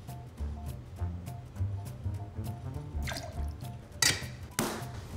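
Whole milk and heavy whipping cream poured into a cocktail shaker tin for a milk punch, a soft, steady liquid trickle and drip with a couple of sharper splashes near the end, close and quiet.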